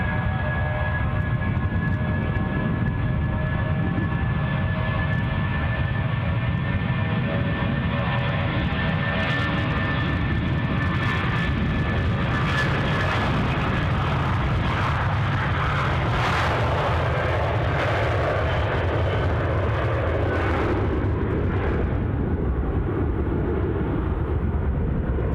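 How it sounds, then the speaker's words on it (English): A British Airways A320 departs Glasgow Airport, its jet engines giving a long, continuous rumbling roar with a steady whine, swelling and churning through the middle before easing slightly. "Let's stay with the outgoing British Airways A320."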